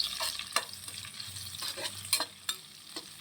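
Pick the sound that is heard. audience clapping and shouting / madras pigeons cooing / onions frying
onions frying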